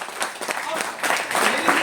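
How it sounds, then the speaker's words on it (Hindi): An indoor audience at a business meeting breaks into loud, dense applause that fills the whole moment, close and continuous with overlapping claps. "जोरदार ताली होनी चाहिए।"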